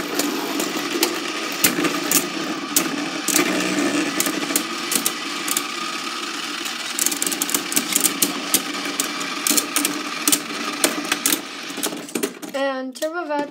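Beyblade spinning tops launched and battling in a stadium, giving a continuous loud whirring, grinding buzz with frequent sharp clacks of collisions, voices talking at the end.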